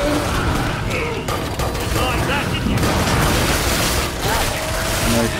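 Dense, continuous gunfire and mechanical weapon clatter from the video game Killing Floor 2, loud and sustained with scattered booms, running throughout with no gaps.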